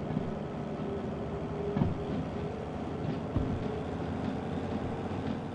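Train rumble from a locomotive pushing a consist in the Derail Valley railway simulator game, a steady low rolling drone with a few faint clacks and thumps, continuous and fairly quiet.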